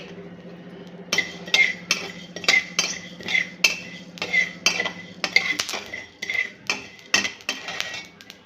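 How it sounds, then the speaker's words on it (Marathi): Coriander seeds dry-roasted in a pan for coriander coffee, a quick series of crisp metallic clinks and scrapes from a spoon against the pan, close and rhythmic, over a low steady hum. "आता मी हे धणे प्रथम भाजून घेणार आहे चांगले असे खमंग वास पर्यंत भाजून घ्यायचे"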